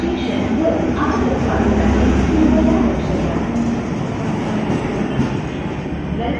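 Manmad–Nanded DEMU train departing Manmad Junction: a steady low rumble of rolling rail cars with faint clattering, under a station announcement voice.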